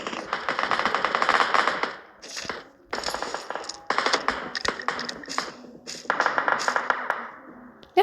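Rapid bursts of automatic gunfire from the PUBG battle-royale video game, loud and close, fired in several sustained volleys with brief pauses between them.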